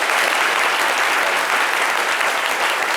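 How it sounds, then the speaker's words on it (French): Dense, steady audience applause from a large crowd, loud and continuous throughout with no gaps or voices standing out. "Ça s'applaudit."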